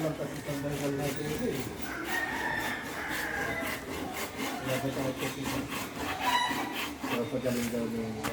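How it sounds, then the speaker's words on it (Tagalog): Handsaw cutting through wood at a house, rhythmic rasping strokes continuing steadily throughout, fairly close, with people talking faintly in the background. "dito naman naglalagari si Amba Jose ng kahoy"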